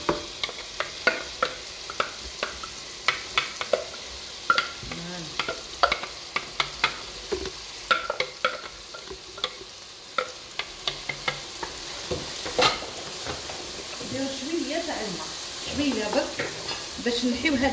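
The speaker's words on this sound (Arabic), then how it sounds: "هذا الزيت اللي تقلى فيه الدجاج، نحطو زوج حبات بصل يكونوا مايا" Onions frying in oil left over from frying chicken, a soft steady sizzle beneath frequent sharp tapping and scraping strokes of a spoon in the pan, close by, with the frying swelling louder toward the end.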